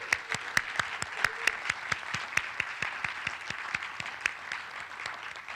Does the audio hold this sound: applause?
yes